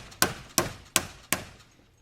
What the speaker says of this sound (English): And a nice rubber mallet. Drive that right in.